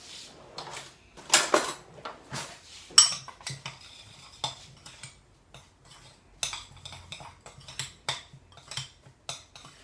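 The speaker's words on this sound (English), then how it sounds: "Mix these all together." Ingredients with salt are mixed in a bowl by hand, a series of uneven clinks and scrapes of utensil on the bowl, some sharper than others, close by and without talk.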